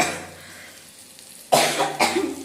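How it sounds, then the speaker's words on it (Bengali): Sharp coughing fit set off by pungent ground spices from a grinding stone, two loud close coughs after a quiet stretch. "মশলার ঝাঁজটা নাকে আসলো, কাশি হচ্ছে"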